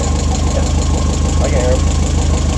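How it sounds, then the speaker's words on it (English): A running engine with loud fuel injectors sets up a rapid, even ticking over a steady idle rumble, close and prominent, while people talk over it. "those injectors are loud"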